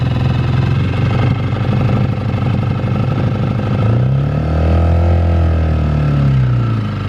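New gas-powered outboard motor running steadily on a dinghy, a close, loud continuous drone that shifts pitch partway through as the engine speeds up.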